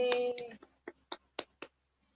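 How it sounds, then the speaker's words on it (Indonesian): Classmates in a poetry lesson give Putri a few sparse, faint claps, about four separate hand claps, following a short stretch of speech. "teman-teman beri tepuk tangannya untuk Putri."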